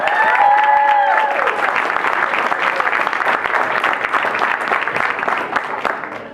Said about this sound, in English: let's just start by giving that a round of applause